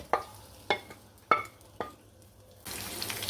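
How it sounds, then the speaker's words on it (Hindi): Sliced onions for a mixed-vegetable pulao are stirred in a pan, producing four sharp scraping clatters at spaced intervals over a low sizzle, then a louder steady hiss of frying. "प्याज हमारा यहाँ पर फ्राई हो रहा है।"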